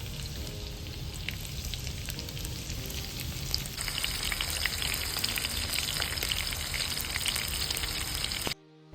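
Pakoras frying in hot oil: a dense, continuous close sizzle and crackle that holds steady, gets brighter partway through and cuts off abruptly at the end.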